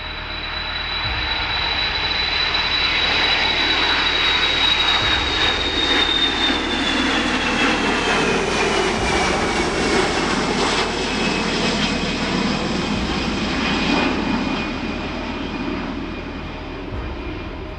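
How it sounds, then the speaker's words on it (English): A US Air Force KC-135 Stratotanker jet takes off at maximum power, its loud, continuous engine roar building, peaking and then easing slightly as it climbs away, with a high whine sliding downward in pitch. "The aircraft rotates at 150 knots, nose lifting clear of the runway."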